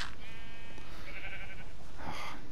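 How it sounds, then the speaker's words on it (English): A sheep in the Minecraft video game bleats a few times in short wavering calls, fairly close, with no one speaking. "Oh, you little rotten sheep."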